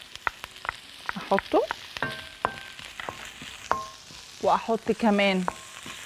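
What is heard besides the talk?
onions and garlic frying in a pan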